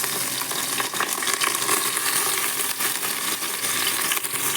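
Fish wrapped in banana leaves sizzles and crackles in a hot pan, a dense, steady frying hiss with sharp pops scattered throughout, close and fairly loud with no voices.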